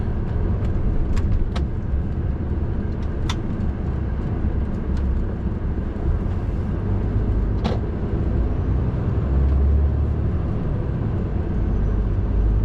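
A delivery truck travels along small, narrow roads, heard as a steady, close engine and road drone from inside the cab with occasional faint clicks and rattles throughout.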